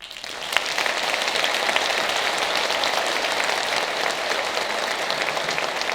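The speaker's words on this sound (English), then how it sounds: "Another big round of applause for all of our reflection speakers" Audience applause at an eighth grade moving up ceremony in a middle school, a steady, dense clapping that holds at an even level for the whole six seconds with no voices.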